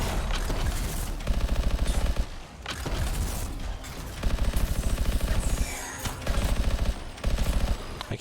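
Rapid automatic gunfire from a gun in a video game, loud close bursts of fast shots repeating in several strings with brief pauses between them.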